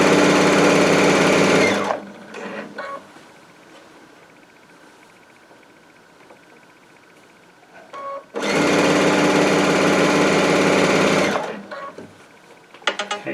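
A Baby Lock Altair sewing machine stitches quilt binding in two loud, steady runs of rapid mechanical whirring, separated by a quieter pause with small clicks and handling noises.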